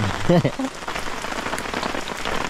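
Heavy rain pours steadily onto a survival campsite, with a dense, even hiss of drops striking surfaces and a brief low sound near the start.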